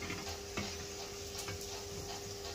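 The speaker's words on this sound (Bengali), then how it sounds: "তো উল্টিয়ে পাল্টিয়ে আমি এটাকে ভেজে নিচ্ছি।" Mixed vegetable pakoras frying in hot oil, giving a steady, fairly quiet sizzle with occasional stirring clinks, heard alone without talk.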